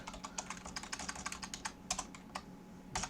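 Quick, uneven keystrokes on a computer keyboard as JavaScript code is typed, a close run of soft clicks with a short pause before a final burst.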